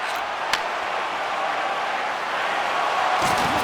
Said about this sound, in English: the crowd's on their feet, saluting the team after a hard-fought effort this evening